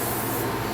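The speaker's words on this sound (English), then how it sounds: "I'm spraying more color here" Continuous close hiss of a paint spray gun laying color onto a panel of a 1955 Chevy 3100 pickup truck, steady and loud throughout.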